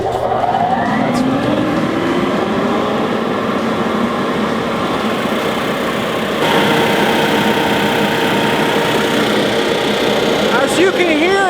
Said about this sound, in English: As you can hear, it's a little bit louder than some of the other trimmers, but believe it or not, this is still quieter than a T2.